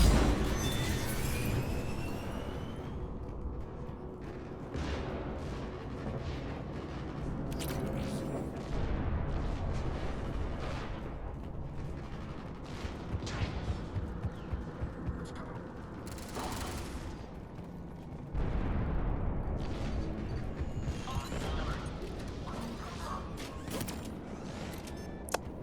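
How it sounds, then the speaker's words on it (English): Turret gunfire and combat in the video game Mass Effect 3: bursts of rapid shots and heavy impacts under a steady mechanical drone, with a player speaking over the action at times. "Turret almost killed me?"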